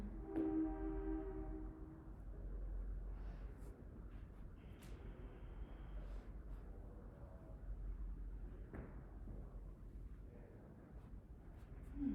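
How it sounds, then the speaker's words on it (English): A train horn blares at the start, then a low continuous rumble of rail traffic rolls on, heard from some distance and fairly faint. "Oh, the train is coming."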